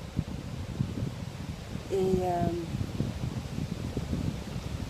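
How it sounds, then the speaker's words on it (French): Wind blowing through trees at a quiet outdoor resting spot on an autumn day, a steady soft rustling hiss that continues throughout, with a brief voice and a short tonal sound partway through. "ça fait du bien entendre le vent dans les arbres."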